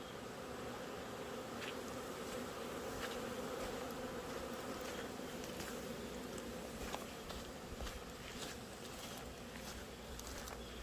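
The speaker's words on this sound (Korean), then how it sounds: "여기에 말벌 포획기를 놓는 이유가 이쪽에서 말벌이 자주 옵니다." Hornets buzz around a hornet trap set under trees in a cool, damp spot. A faint, continuous insect drone comes with scattered closer passes and light outdoor background noise.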